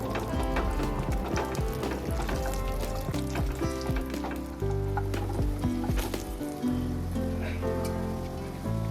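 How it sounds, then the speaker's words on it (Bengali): Cashews and raisins sizzling and frying in a pan with whole garam masala, a continuous crackling sizzle with scattered pops and occasional stirring clatter, close and steady, no talking. "কাজু বাদাম কিশমিশটাও একটু ভালো করে ভেজে নেব"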